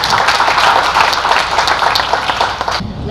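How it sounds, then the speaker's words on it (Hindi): A live audience at a Hindi comedy poetry show claps to welcome poet Dipali Jain Jiya, loud and sustained, then stops abruptly near the end. "एक बार तालियां बजाइए दीपाली"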